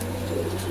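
A racing pigeon in a loft gives a short, close, low coo, steady and throaty, with no talking over it.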